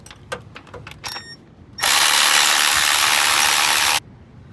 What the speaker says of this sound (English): next remove this tensioner pulley right here